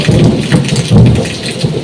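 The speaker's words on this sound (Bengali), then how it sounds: "দেখো বন্ধুরা কত ঝমঝম করে বৃষ্টি হচ্ছে, বিদ্যুৎ দিচ্ছে চারিদিকে" Heavy rain pours loudly on surfaces outdoors, with deep rumbling thunder rolling underneath in a dense, steady roar.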